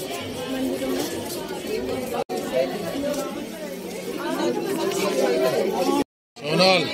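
Dense crowd chatter at the Radha Vallabh temple, many voices murmuring and talking at once close by, steady throughout, broken by two brief dropouts.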